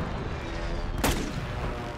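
A single sharp sniper shot in the video game Warzone cracks out over a continuous rumbling background of game noise.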